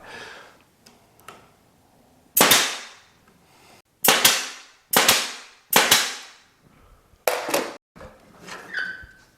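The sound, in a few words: nail gun shooting a nail into wood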